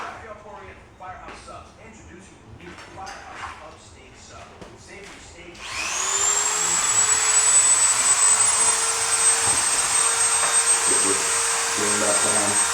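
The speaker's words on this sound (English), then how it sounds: "I'm just gonna grind the edge." Angle grinder starts up after a few seconds and grinds the edge of a metal lawn mower chute blocker with a loud, steady high-pitched whine; light handling noises and talk come before it.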